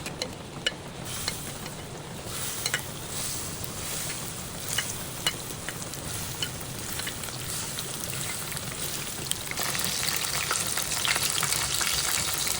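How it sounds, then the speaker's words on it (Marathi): Prawns dropped into well-heated oil for a prawn biryani sizzle and crackle steadily, a dense frying hiss with occasional sharp pops, swelling brighter and louder toward the end, no voices. "तर आता आपलं तेल छान असं तापलं आहे, तर आता आपण याच्यामध्ये कोळंबी सोडून देऊया."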